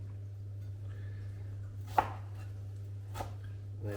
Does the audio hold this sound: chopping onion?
yes